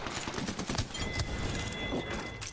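Scattered gunfire in an Apex Legends match, a dense flurry of shots and impacts over game noise, fairly quiet and continuous.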